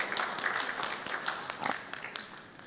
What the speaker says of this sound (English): Just give the speaker more applause.